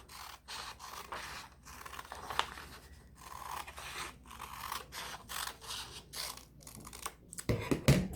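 Scissors snip through a folded sheet of paper, cutting it in half with a steady run of quiet, crisp close-up cuts and a brief rustle at the end.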